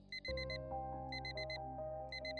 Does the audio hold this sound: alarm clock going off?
yes